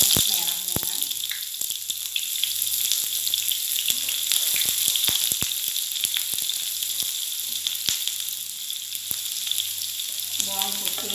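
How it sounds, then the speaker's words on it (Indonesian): Shallots fry in hot oil in a home kitchen, a steady crackling sizzle running throughout with sharp pops and occasional stirring clatter near the start and end. "Kita panaskan minyak, kita goreng bawang merahnya."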